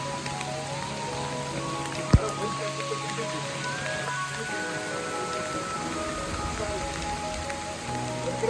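Steady rain falls during a mountain hike up Paithalmala, a constant patter of drops on surfaces close by, with a sharp knock partway through and faint tonal sounds beneath.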